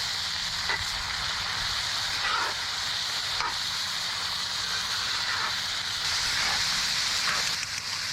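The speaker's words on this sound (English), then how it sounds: "I'm going to give this a stir" Beans being stirred in a pot: a steady close simmering hiss with soft, periodic scrapes of a spoon turning the mixture, no talk.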